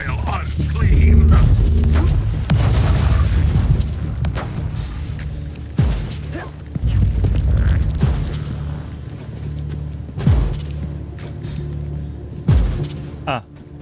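Bombardment from Marauder bombers in a co-op video game campaign on extreme difficulty, a continuous rumbling roar punctuated by several heavy booming impacts at intervals, loud and close.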